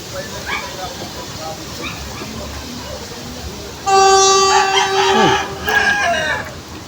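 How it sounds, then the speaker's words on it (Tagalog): A freight train hauling a load of stones, on a line running to Bicol, sounds a loud, sustained horn blast of about a second and a half, then a second blast, over a steady outdoor background. "Tren. May kargang bato."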